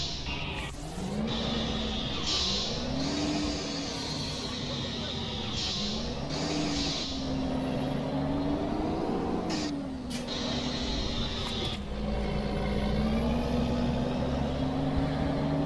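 A Mercedes truck hauling Volvo chassis in Euro Truck Simulator 2 drones steadily, its engine pitch climbing and dropping with each gear change, with occasional sharp air hisses over the continuous loud rumble.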